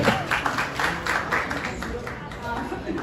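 Audience applause fills a Chhattisgarhi film awards ceremony, the Smart Cinema Award 2025, as a dense steady clapping wash runs throughout with voices mixed in.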